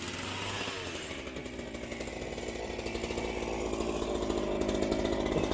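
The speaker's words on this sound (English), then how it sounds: "More chainsaws." A chainsaw runs continuously at a farm haunted-woods attraction, its buzzing engine close and loud, the pitch climbing slightly as the throttle rises.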